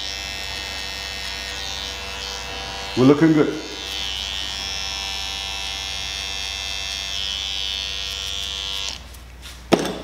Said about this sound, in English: Then behind the slim line, I'm gonna put a little bit of that shaver.